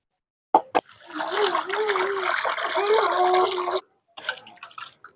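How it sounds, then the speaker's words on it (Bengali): Freshly cut fish are washed in water, with two sharp splashes, then a sustained sloshing and running-water rush for several seconds, and a few smaller splashes and drips after a brief pause. "এবার মাছগুলোকে সুন্দর করে ধুয়ে নেব।"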